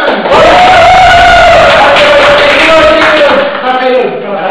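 A loud crowd cheers and yells at a Jabbamonkeez dance group anniversary event, a sustained roar of whoops with voices shouting over it, close and intense.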